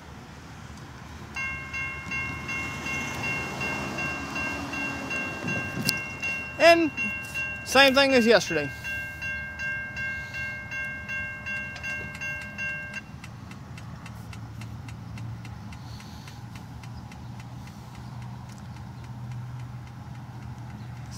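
Canadian National freight train 2502 rolls through a level crossing in Effingham, Illinois: a steady crossing bell rings over low rail rumble, with a few loud horn blasts midway and people talking throughout.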